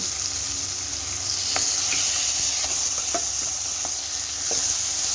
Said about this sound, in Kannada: ಮಸಾಲಾನ ಚೆನ್ನಾಗಿ ಹಸಿ ವಾಸನೆ ಹೋಗೋವರೆಗೂ ಹುಡ್ಕೊಳ್ಳಿ